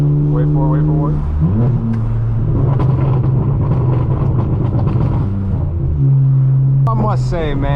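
A straight-piped BMW M4 F82 engine rumbles and revs loudly, a deep throbbing drone that rises and falls in pitch, with someone talking over it.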